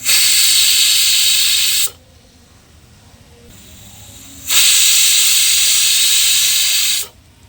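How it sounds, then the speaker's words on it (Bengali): A kitchen pressure cooker whistle vents steam in two loud, sharp hissing bursts of about two seconds each, separated by a quieter pause, close and without talk. "তোমাদেরকে বলেছিলাম একটা সিটি দেবো বাট আমি দুটো সিটি দিয়েছি"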